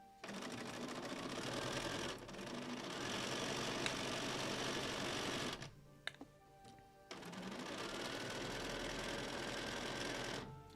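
A sewing machine fitted with a quarter-inch foot stitches down the centers of faux chenille baby quilt blocks, whirring steadily in close runs, stopping briefly for a quiet moment, then starting again.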